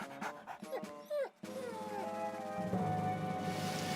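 A cartoon dog whimpers and yips in short, rising high-pitched cries, then settles into a steady plaintive whine over a continuous background score.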